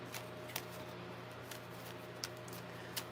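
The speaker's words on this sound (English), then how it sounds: "I'm going to shuffle these really good because these index cards are kind of soft" Soft index cards are shuffled close by, short quiet riffling bursts recurring every half second or so against a faint steady hum.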